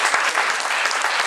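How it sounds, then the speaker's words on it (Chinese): An audience applauds warmly for a broadcast executive at a recorded gathering, with dense, steady clapping throughout the short burst and no speech over it. "我们给他最热烈掌声"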